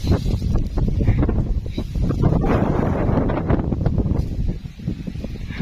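Cold wind gusting steadily across an open field, a loud continuous rushing and buffeting against the microphone that fills the whole stretch with only slight dips in strength.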